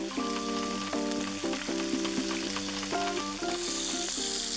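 Scallops sear in a hot pan with a continuous close sizzle, while a steady tonal hum runs underneath and a few light clicks break through, with no voices.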